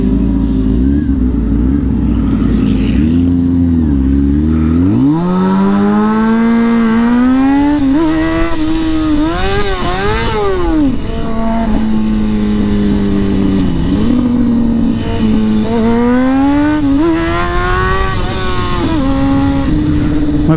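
A motorcycle engine revving hard in neutral at high RPM, rising and falling in repeated surges with a loud, close, steady roar throughout.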